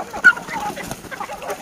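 Farm chickens cluck and peck as feed is scattered for them, with short scattered clucks and soft scratching close by, and one brief sharper squawk near the start.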